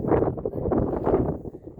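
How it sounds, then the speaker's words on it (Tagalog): Strong gusty wind on Mount Pulag in the Philippines buffets the microphone in a continuous loud low roar, rising and falling without pause. "Kaya super kakusog ang hangin."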